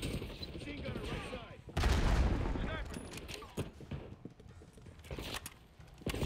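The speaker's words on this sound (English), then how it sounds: "Bro, they need to chill with these grenades." Grenades going off in Black Ops 6 multiplayer, with a heavy blast landing near the middle among scattered sharp cracks and game noise, and a player's voice talking over it.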